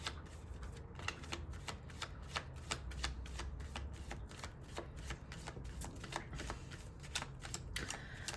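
Tarot cards being shuffled by hand, a quiet rapid series of crisp riffling slaps and flicks repeating steadily throughout, close up with no talking.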